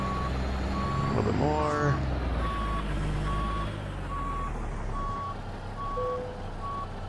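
Truck reversing alarm in American Truck Simulator, a steady evenly spaced beep repeating throughout over a low idling engine rumble, with someone briefly talking partway through.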